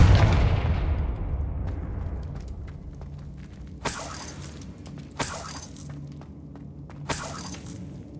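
A Confringo spell in Hogwarts Legacy lands with three sharp, loud blasts spaced about a second and a half apart, each a bright crackling burst with a rumbling tail, after a fading low boom at the start.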